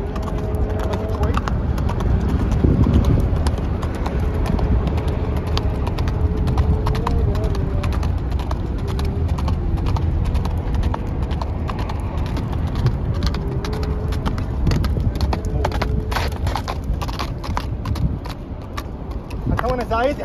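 Hooves of a ridden horse clip-clopping steadily and close up for a long stretch, with someone talking over the rhythmic hoofbeats.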